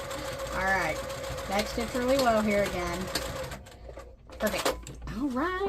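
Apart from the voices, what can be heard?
sewing machine back stitching a placemat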